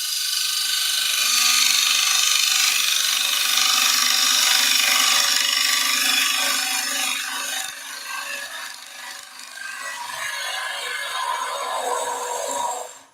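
A bowl gouge cuts waste wood from a bowl spinning on a wood lathe, a loud, steady, hissing scrape that thins out in places and then stops abruptly at the end.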